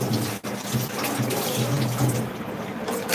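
Water runs and gushes steadily, loud and close, like a tap filling a tub or bucket, with a short break near the start and no voices.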